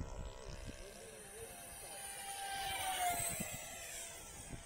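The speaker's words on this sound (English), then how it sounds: "The plane is really fast and powerful." An Eachine F-18 50mm RC jet flies in strong wind, giving a continuous high whine that swells louder and sweeps in pitch near the middle, under a rushing wind background.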